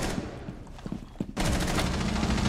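MP5 submachine gun fire in a tactical shooter video game: a few scattered shots and clicks, then a sudden sustained loud automatic burst that carries to the end.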